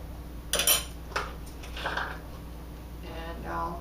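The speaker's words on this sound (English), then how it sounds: "we're going to put that in our bowl and start to break it up and cream it" A spoon works half a cup of shortening around a mixing bowl to break it up and cream it, giving a few scraping clinks against the bowl over steady background hum.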